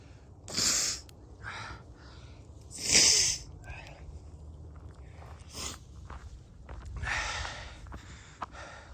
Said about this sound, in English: I gotta blow my nose out.